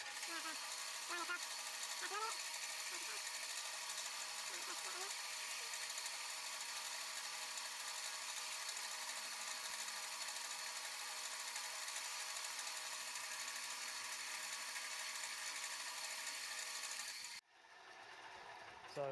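A metal lathe makes a facing cut on a stock piece being brought to 100 mm length, giving a steady, fairly loud broadband machining whir with faint squeaks that carries on without pause, then stops abruptly near the end.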